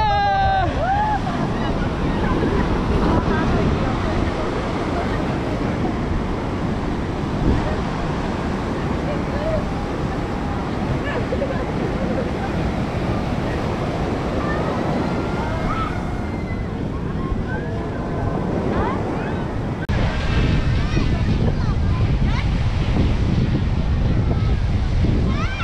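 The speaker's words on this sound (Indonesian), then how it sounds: "jalan lagi di pantai ya" Waves rolling onto a beach under steady wind, with a constant, loud roar of surf and gusts buffeting the microphone throughout, the wash swelling again near the end.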